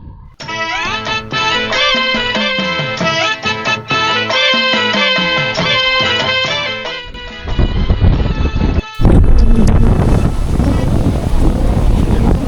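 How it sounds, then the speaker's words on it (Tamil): Strong wind rushes against a motorcycle rider on a mountain road between Kodaikanal and Munnar. Steady tonal sound comes first, then loud, roaring gusts batter the microphone for the last several seconds. "காத்து செம்ம ஸ்பீடா அடிக்குதுங்க"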